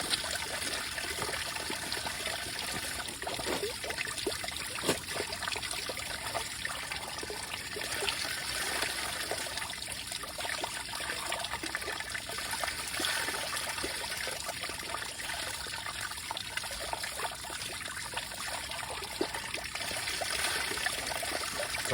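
A spring beside a walking trail on the Portuguese Way of the Camino de Santiago trickles steadily, a continuous bright, hissy burble of running water throughout with no talking.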